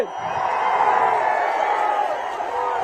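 A political rally crowd cheering and roaring in one loud, sustained wash of voices, dense and continuous for a few seconds.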